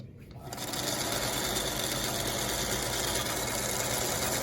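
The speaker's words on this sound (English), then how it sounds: "Okay, this last piece I'm going to sew." A sewing machine stitches quilt block fabric pieces, starting after a brief quiet moment and then running in a steady, close, continuous whirring buzz.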